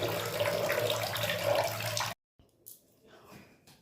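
Dirty water runs steadily and loudly from a tap in a washroom, then cuts off abruptly, leaving faint drips and small knocks.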